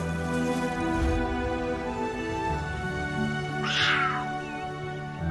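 Young cheetah cubs give a high, chirping call once, faint against a steady droning background.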